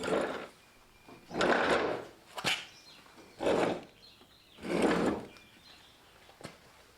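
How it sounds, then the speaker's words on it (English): The deck of a Husqvarna YTH23V48 riding lawn mower slides out from under the machine in four separate scraping, rasping pushes with short pauses between them, close by with no talking. "With a mower deck now free, you can slide it out and have access to the belt."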